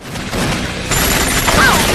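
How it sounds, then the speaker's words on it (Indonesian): Gunfire rings out during a film shootout between a man and an agent, with loud, dense bursts of shots and impacts that fill the short clip. "Mau tak mau, Petro harus melakukan baku tembak dengan si agen."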